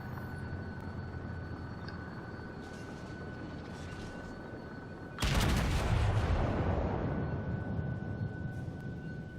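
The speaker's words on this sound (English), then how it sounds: "I've probably got time to fire one more broadside off at that Wyoming before I engage the cruiser and the battleship" A battleship broadside fired at a Wyoming in World of Warships, played as the Myogi: after a quiet stretch of engine hum, one sudden loud cannon blast erupts and decays into a long rumbling roar, without talk.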